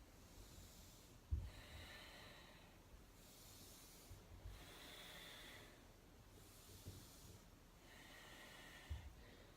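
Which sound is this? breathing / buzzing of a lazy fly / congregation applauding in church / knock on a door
breathing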